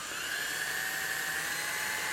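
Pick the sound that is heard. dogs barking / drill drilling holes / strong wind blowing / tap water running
drill drilling holes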